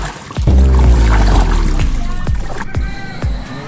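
Water splashes and knocking thuds as people board and ride a pumpboat, a series of sharp hits and sloshing close by, with a faint hum and a high tone later.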